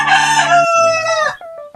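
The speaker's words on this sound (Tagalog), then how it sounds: "Kaya napakarami ditong mga manok, pato." A rooster crowing loudly and close on a farm with many chickens and ducks, one long drawn-out crow followed by a few short clucks.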